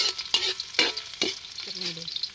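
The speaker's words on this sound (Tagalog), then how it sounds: "pag nagigisa kasi ako, inuuna ko yung luya" Ginger sautéing in a pan for a home-cooked lunch, with several loud stirring scrapes over a steady sizzle of hot oil, heard close up and without talk.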